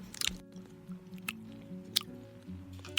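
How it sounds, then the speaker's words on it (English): Someone chews stew loudly and wetly in a drama scene, producing close squishy bites and smacks in an irregular rhythm against a quiet low background, with no speech. "Why are you chewing so loudly?"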